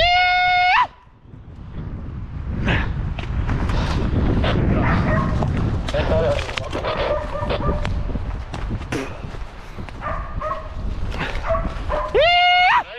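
A hunting dog barks, yips and whimpers at a wild boar during a driven hunt in a forest, heard up close amid rustling, footsteps and men calling out to each other.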